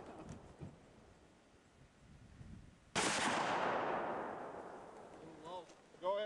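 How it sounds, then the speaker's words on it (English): A single loud handgun shot cracks sharply and rings out into a long decaying echo outdoors, with faint talk before it and a brief voice after. "Go ahead, shoot a couple more."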